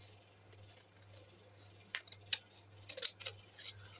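Scissors snip through a paper poster in a few sharp, quiet cuts clustered near the end, over a low steady hum with no talking.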